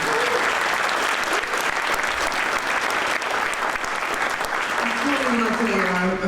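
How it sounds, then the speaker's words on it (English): A roomful of guests at a town business appreciation breakfast gives a big, steady round of applause, loud and continuous clapping for the whole stretch with some voices mixed in near the end. "Another big round of applause."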